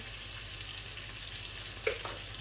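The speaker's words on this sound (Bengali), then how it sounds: "মাছটা আস্তে আস্তে ভাজা ভাজা হোক, আর আমার তেলটা গরম হয়ে গেছে" Fish fries slowly in hot oil, giving a quiet, even hiss that runs throughout with one brief louder pop near the end, and no talking.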